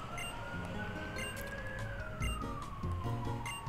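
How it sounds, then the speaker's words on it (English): Police sirens sound in the background behind a Pokemon White 2 game session, one slow wailing tone rising and falling, mid-distance and moderately loud over the game's music and effects. "Now there's sirens in the background."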